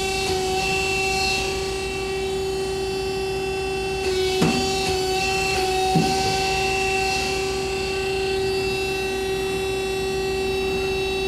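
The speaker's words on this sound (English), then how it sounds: "Index the turret." A Hyundai-Kia SKT-160A CNC lathe indexes its turret, giving two distinct mechanical clunks a couple of seconds apart over the machine's steady tonal hum.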